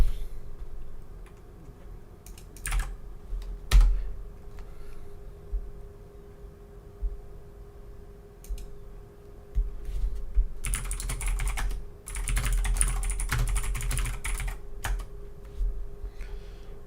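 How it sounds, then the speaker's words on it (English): Rapid typing on a computer keyboard, dense quick clicks pattering close by at a steady fast pace with a few brief pauses. "That's some fast typing."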